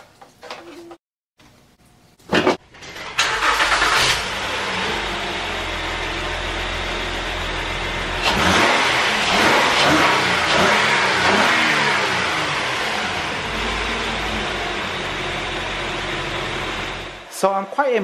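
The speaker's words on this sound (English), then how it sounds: "So now let's go ahead and jump start my van." A Honda van's engine cranks and catches after a portable jump starter is connected, then runs steadily at a loud, close idle with a brief rev in the middle before it cuts off at the end.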